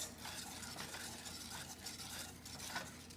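Spatula gently folding egg yolks into a chocolate cake batter in a bowl, soft wet scraping and swishing strokes repeating in an irregular rhythm, quiet and close with no talk.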